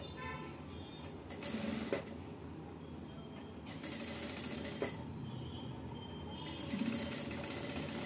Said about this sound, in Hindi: यहाँ पे जो है हम एंड तक यहाँ पे सिलाई लगा रहे हैं।